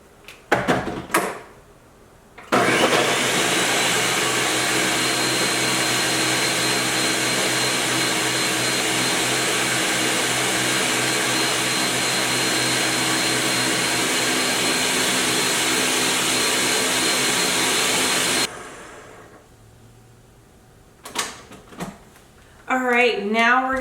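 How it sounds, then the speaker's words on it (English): A countertop blender runs loud and steady for about sixteen seconds, whirring hemp seeds and dates into hemp milk, with brief handling clatter before it starts and after it stops. "So now I'm going to add this to the blender."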